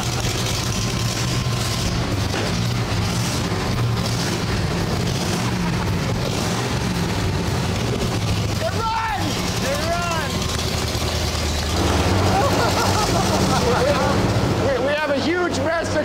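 A junkyard Ford 390 FE V8 runs steadily on an engine stand, a low continuous rumble that grows slightly louder toward the end, with voices talking over it.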